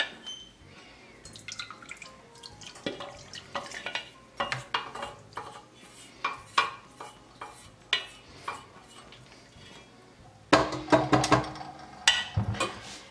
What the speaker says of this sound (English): into our bowl we are going to add in our brown butter here, just giving it a little stir